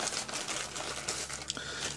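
Close crinkling of a thin polyethylene mail package bag, a continuous dense rustle with small crackles throughout and no talk.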